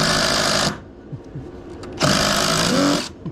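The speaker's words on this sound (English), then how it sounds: "Get the new drill." A cordless battery drill runs in two sustained high-pitched bursts separated by a pause, nearby and loud, during a singlewide mobile home floor repair.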